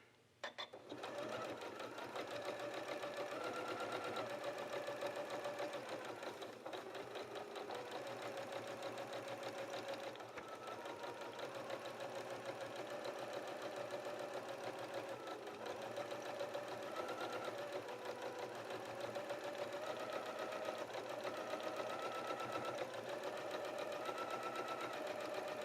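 Sewing machine running a long, slow basting stitch a quarter inch from the fabric edge around a curve, a steady continuous mechanical whir with regular needle ticking throughout, close and even, no speech.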